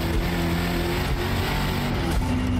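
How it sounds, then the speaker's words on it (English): Car engine in Forza Motorsport on an old 1950s-layout track, a loud continuous rasping drone with slight revving shifts near the end, no voices. "Car sounds good though"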